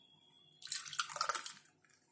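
Orange milkshake is poured from a blender into a glass, making a short close liquid splash and trickle that swells for about a second and then tapers off into quiet.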